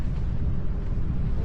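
Strong wind roars and buffets the microphone during parasailing over Boracay, a continuous, loud low rumble with no pauses.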